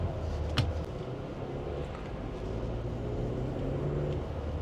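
A Hyundai Tucson with a 1.6 turbo engine accelerates, a steady low engine and road rumble heard from inside the cabin, rising slightly toward the end.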